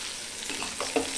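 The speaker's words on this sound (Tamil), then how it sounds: "பொன்னிறம் வர வரைக்கும் வெங்காயத்தை வதக்கிக்கோங்க" Onions sautéing in a pan for chayote chutney, a steady close sizzle with a few scraping stirs from a utensil, no voices.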